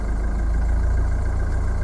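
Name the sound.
car engine revved during fuel injector diagnostics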